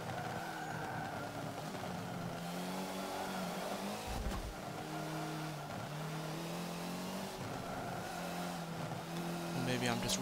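Volkswagen rally car in Forza Motorsport 7 at a Group Rally event, its engine droning steadily with rising and falling revs and gear changes throughout, loud and continuous, with a brief burst of tire or gravel noise and a voice talking over it.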